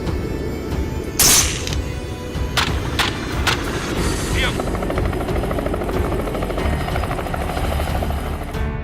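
Helicopter flying low over dense cover during a wild pig hunt, its steady rotor and engine roar continuous and fairly close, with a few sharp bursts of noise partway through.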